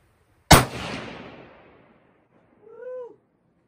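A single 6.5 Creedmoor rifle shot on a shooting range, a sharp loud crack with a long rolling echo that fades over more than a second, followed by a short whooping vocal sound.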